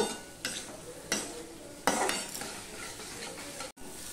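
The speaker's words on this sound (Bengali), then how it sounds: "এবার গাঠি কচুর সাথে আমি ভালো করে সম্পূর্ণটা মিশিয়ে নিয়ে আবার একটুখানি কষিয়ে নেব" Taro (gathi kochu) is stir-fried in a pan, soft sizzling broken by several scraping strokes of a spoon against metal, each a brief louder swish.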